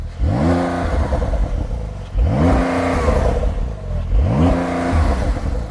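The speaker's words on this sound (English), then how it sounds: "Start the car up, give it some revs." A Porsche 911's exhaust revs three times while idling, each rise climbing quickly then falling back against a soft limiter, loud and close, with the engine rumbling between blips.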